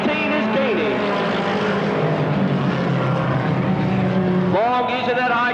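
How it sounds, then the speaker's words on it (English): Race cars roar around an oval track under continuous commentary, a loud sustained engine drone with pitch sweeps as cars pass near the start and again near the end. "Long using that high groove, and it appears to be working as they close the gap on leader Jim Cox down the back straightaway."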